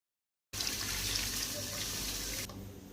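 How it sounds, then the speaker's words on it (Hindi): One litre of full cream milk pours into a pan of lightly roasted vermicelli. A soft, steady splashing starts suddenly, runs for about two seconds and then stops, fairly quiet and close by. "इसके अंदर शामिल कर देते हैं दूध, फुल क्रीम 1 लीटर"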